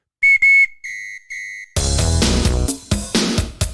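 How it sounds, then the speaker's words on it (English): A whistle is blown at a well-drilling work site: a few loud, sharp shrill blasts, two short and then two longer ones, before loud music kicks in and plays on. "Where's my whistle?"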